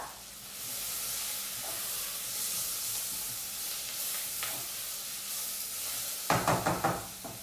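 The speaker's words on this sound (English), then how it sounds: "Give it a bit of a stir." Garlic and spices sizzle gently in a pan for spiced pumpkin soup, a soft, steady hiss that ends in a short burst of knocks and scrapes as the pan is stirred near the end.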